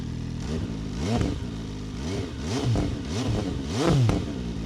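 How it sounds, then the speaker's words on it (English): A 2020 MV Agusta Brutale 800RC motorcycle engine is revved repeatedly up close, with several sharp rising and falling blips over a steady idle. "so that's what a motorcycle is supposed to sound like"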